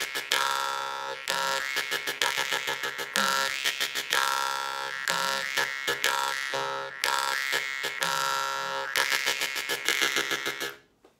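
A jaw harp played with the rapid machine-gun breathing technique gives a loud, buzzing twang broken into fast rhythmic bursts. The phrases repeat with short gaps between them and it plays alone, without any voice.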